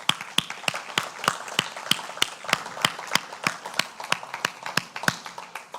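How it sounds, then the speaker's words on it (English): A small church congregation at a Unity service claps in a sparse, uneven patter. Individual hand claps sound distinct and fairly close, and the clapping holds steady for several seconds before it thins out. "So give yourselves a round of applause."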